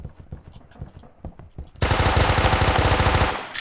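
Rapid automatic gunfire from a weapon in the online shooter game Phantom Forces, a dense loud burst of shots in quick succession after a stretch of scattered lighter pops, close and steady until it stops.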